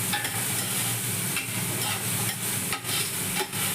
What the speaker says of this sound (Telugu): ఆ మటన్ అయితే వేసుకుని మళ్ళీ వేయించుకోవాలి